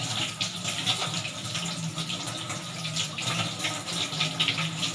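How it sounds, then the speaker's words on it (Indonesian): Water runs steadily from a tap into a sink during handwashing for colostomy care, a continuous broadband hiss and splash at close range with no talk over it. "Kemudian nyalakan keran"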